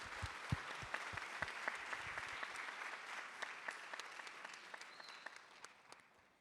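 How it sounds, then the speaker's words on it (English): Sustained audience applause for the speakers at the close of a UNESCO Transforming Education pre-summit ministerial panel session, dense clapping that stays steady and then gradually thins toward the end. "Can we get another round of applause for all of our wonderful speakers?"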